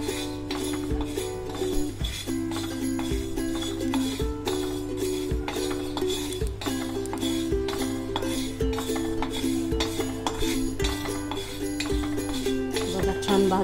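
Cumin and ajwain dry-roasting in a pan over low heat, a spoon repeatedly clinking and scraping against the metal in a steady stirring rhythm, close and fairly quiet, with a sustained tonal hum in the background.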